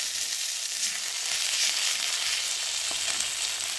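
Garlic hits hot fried onions in a pan, producing a loud, continuous hissing sizzle that stays steady throughout, with a faint clink near the end.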